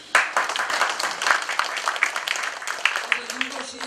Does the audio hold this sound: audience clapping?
yes